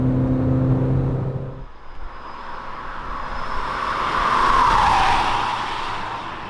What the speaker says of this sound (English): now let's put the car into sports mode and let you enjoy it